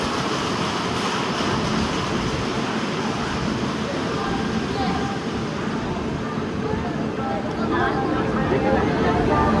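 The Simhadri Express rolls along on the Visakhapatnam–Narsapuram line, giving a continuous rumbling, rattling ride noise from inside the train, with voices faintly mixed in.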